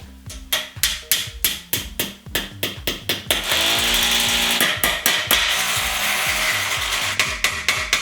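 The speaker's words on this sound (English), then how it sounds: "I hammer the dowel and fix it with a screw." Sharp, evenly spaced hammer blows drive a dowel into an outside wall corner close by, interrupted by a few seconds of grinding drill noise before the steady hammering resumes.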